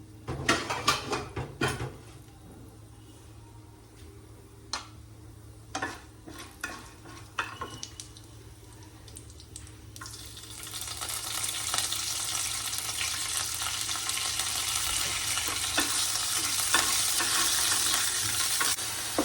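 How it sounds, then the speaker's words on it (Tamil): Urad dal and cumin seeds fry in hot oil in a pan, starting with sharp knocks and scrapes of stirring and rising into a loud, bright continuous sizzle in the second half. "உளுத்தம்பருப்பு போடணும், கொஞ்சம் சீரகம்"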